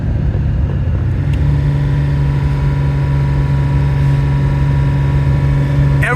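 A Lamborghini Countach engine while driving, a loud steady drone with a strong humming tone, close and constant throughout.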